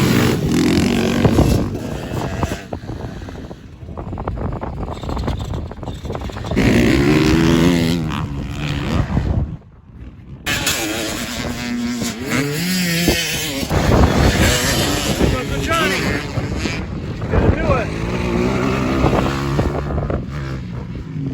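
Motorcycles ride around a motocross track on the practice day before a race, engines revving and droning continuously with rising and falling pitch as bikes pass, loud with buffeting wind noise.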